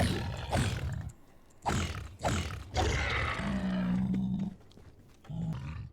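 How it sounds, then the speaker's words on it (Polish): A Minecraft pig creature in the Nether grunts and snorts in several rough, gravelly bursts separated by short pauses, close and fairly loud. "Świnia."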